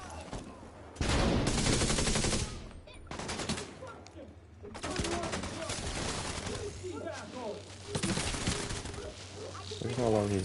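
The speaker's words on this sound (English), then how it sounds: "Fire a bullet." Rapid gunfire from The Division 2 on PS5, loud sustained bursts of automatic shots repeating across the clip with brief gaps between volleys, close and dense.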